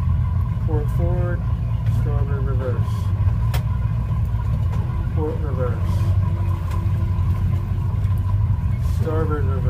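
Twin boat engines rumble low and steady while docking, idling and shifting between forward, neutral and reverse under near-constant talk that calls out gear changes.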